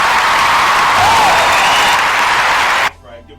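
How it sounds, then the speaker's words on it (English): A small crowd applauds loudly and steadily at a freestyle show, a continuous wash of clapping that stops abruptly, leaving near silence. "So we're going to give him a round of applause."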